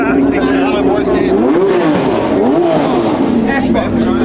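A Volkswagen Beetle's engine runs at Bicester Heritage with a loud, continuous rumble, while people talk close by over the steady drone.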